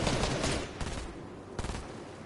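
Gunfire in the video game Fortnite, a cluster of rapid shots up front followed by a few scattered bursts, moderately loud with no talking over it.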